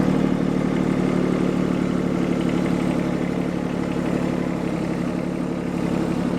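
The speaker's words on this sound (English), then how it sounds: "It's a bit hard to steer a tractor." A tractor engine runs at a steady idle, a constant low rumble with a faint mechanical clatter and no voices.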